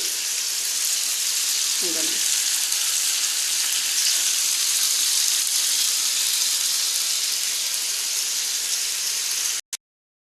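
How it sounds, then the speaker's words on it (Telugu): Half a kilo of chicken frying in a hot pan, an even, continuous sizzle that stays close and steady before cutting off abruptly at the end. "చికెన్ పక్కన ఫ్రై అవుతుందండి."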